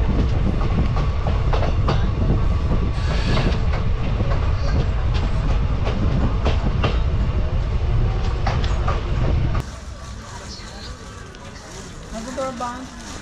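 Train 06602 Madgaon Special pulling out of a railway station on the Surathkal to Gokarna line, loud clattering rail noise with rhythmic clicks and rumble, then an abrupt drop to quieter ambience near the end, with people speaking over it.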